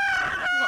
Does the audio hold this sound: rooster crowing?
yes